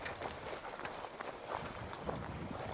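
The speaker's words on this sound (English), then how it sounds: "I have the horses out here." Horses walk outdoors on watered green farmland, their hooves clip-clopping steadily through a continuous, noisy background with no clear talk.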